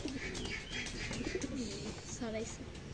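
Pigeons coo in low, soft, repeated calls at a village coop, close by but mixed with steady background noise while a person talks over them.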